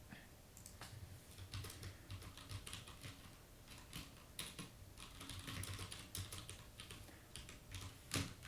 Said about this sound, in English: I'm using a DAS keyboard right now.